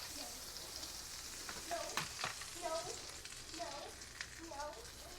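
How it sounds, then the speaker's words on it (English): Einkorn buttermilk blueberry pancakes fry on a buttered griddle with a faint, steady sizzle, while quiet voices murmur in the background. "re-butter this griddle and get some more started"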